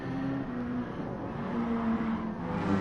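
Race car engine at Suzuka International Racing Course in a racing game holds a steady high drone for a few seconds, loud and close, with a slight rise in pitch near the end.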